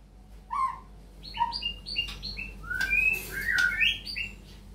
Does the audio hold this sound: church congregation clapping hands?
no